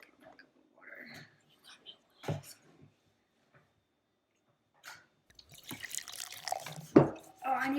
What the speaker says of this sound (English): So you're gonna pour 1 cup of water.